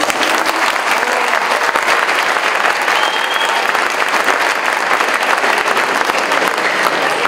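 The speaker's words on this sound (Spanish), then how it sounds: "Recibimos con un fuerte aplauso al doctor Antonio Guzmán Fernández," Loud, dense audience applause welcoming a university rector at a public event, a continuous roar of many hands clapping at steady intensity throughout with no talking.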